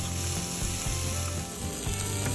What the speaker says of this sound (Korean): 이제부터 인내와 고뇌의 시간, 카라멜라이징이에요.